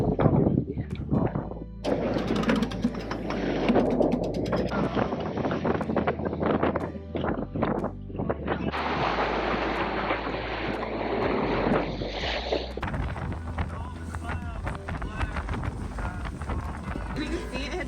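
Strong, steady wind roars across the microphone aboard a moving sailboat heading to Catalina, with water rushing and splashing beneath and a voice briefly audible under the noise.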